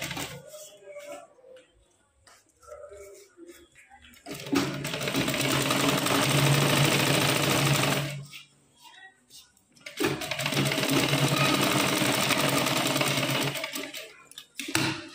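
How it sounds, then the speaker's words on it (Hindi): A sewing machine stitches a blouse collar with buckram in two loud, steady runs split by a pause, with someone speaking before and between the bursts. "मैंने इस पर सीधी सिलाई लगा ली"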